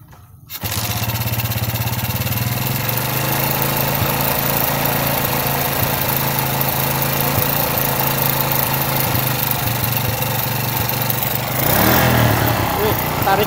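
A motorcycle engine left dead for a long time kicks into life after a jump from a battery, then idles in a steady, loud, close chug with a brief rev near the end.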